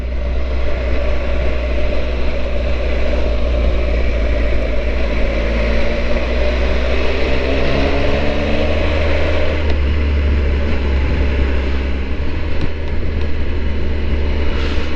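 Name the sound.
Triumph motorcycle engine accelerating during an overtake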